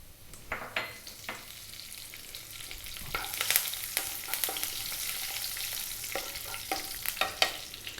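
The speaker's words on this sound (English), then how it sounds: "To that, I'm going to drop in the curry leaves." Curry leaves, dried chili and cumin seeds spitting in hot oil over above-medium heat, a bright crackling sizzle with sharp pops and a burst of louder spattering when the leaves go in, close and without speech.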